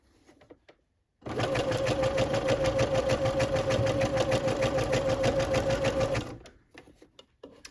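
A domestic sewing machine running a zigzag stitch at width 3 and length 4 while attaching elastic to a baby bodysuit, a loud steady rapid whir lasting about five seconds, starting abruptly and stopping, with no talk over it.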